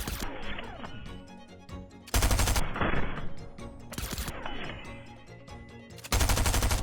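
Gunner's Stinger SMG in Fortnite fires in loud rapid bursts of gunfire separated by short pauses with game ambience, no voices.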